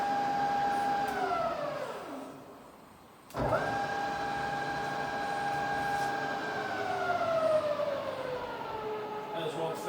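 A rebuilt Bridgeport milling machine spindle hums with a steady tonal whine that sinks and fades away, then switches on again abruptly in reverse and holds a smooth, quiet running note that drifts slowly lower in pitch.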